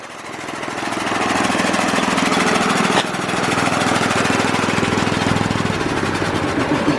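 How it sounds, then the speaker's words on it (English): An air compressor runs in a work area during brake work on a 2004 Mazda MPV. It gives off a loud, rapid, even chugging pulse that continues without a break from start to finish. "I guess I'm going to shut that compressor off"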